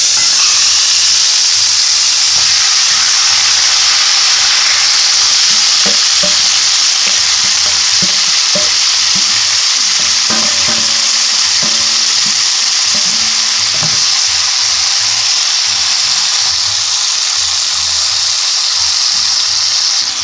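Chopped ingredients frying together in a cast iron pan with about three tablespoons of olive oil: a loud, continuous sizzle close up, with occasional stirring clinks and scrapes and no talking.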